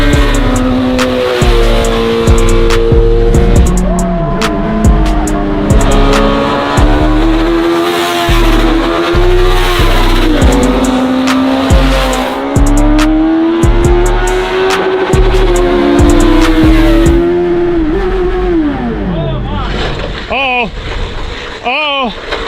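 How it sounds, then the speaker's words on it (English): A mini truck engine revs hard, bouncing again and again off the rev limiter with a loud, continuous, rising and falling drone until it suddenly cuts out near the end. "I heard a lot of rev limiter and then nothing."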